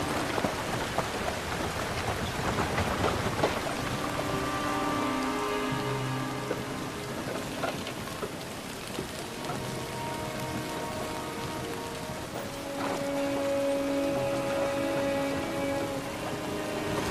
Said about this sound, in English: Getting rained on back there.